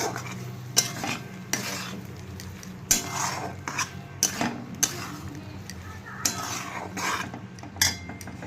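Poppy seed paste being stirred into potatoes in a pan, repeated metal spoon scrapes and knocks against the pan over a faint sizzle, close and irregular, with some background voice.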